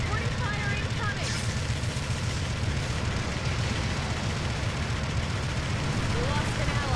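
Heavy explosions and gunfire from supporting fire in Gundam Battle Operation 2 on PS5, a dense, continuous loud barrage of booms and rumbling with faint talk underneath.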